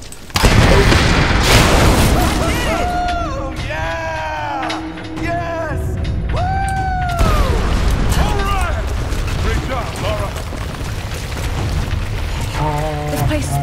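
Deep booming explosions rumble through a collapsing cave in the Tomb Raider video game, layered with crashing debris and shifting mechanical groans, loud and continuous over about fourteen seconds, with a voice speaking at points.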